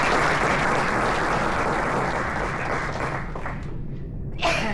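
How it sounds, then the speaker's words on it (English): An audience at a donor appreciation night applauds its panelists: dense, steady clapping that fills the room, then fades away near the end. "let's give our panelists a quick round of applause"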